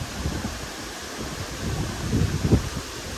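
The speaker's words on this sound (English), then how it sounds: "It suddenly got so windy." Strong, sudden wind before a storm blows through trees beside choppy water, a continuous rushing roar with low buffeting gusts that swell and peak near the end.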